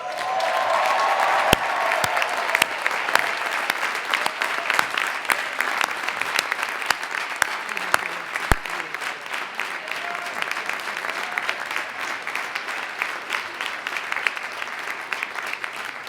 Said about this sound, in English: Can we have one more rousing round of applause for all of the graduates?